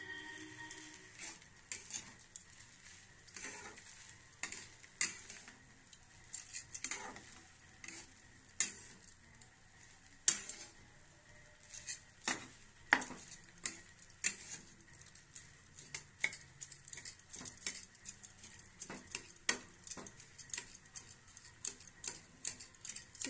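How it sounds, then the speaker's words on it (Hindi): Lemon rice being stirred in a pan, with quiet, irregular scrapes and ticks of a spoon against metal over a faint background, all at low volume. "चलाते रहेंगे जिससे कि सारी सामग्री चावल में अच्छे से मिल जाए।"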